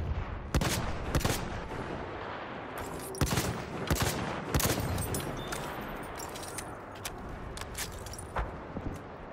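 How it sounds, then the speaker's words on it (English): RSC rifle fire in Battlefield 1 over a constant battlefield din, with sharp cracks near and far and distant bursts and explosions building a steady wall of combat noise. "203 meter headshot kill with the RSC"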